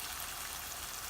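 Liquid from canned salmon pours steadily into a cooking pan, a continuous close watery splash and trickle with no talking.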